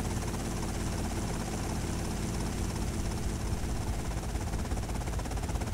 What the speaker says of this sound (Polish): Trzy gwiazdki to helikopter.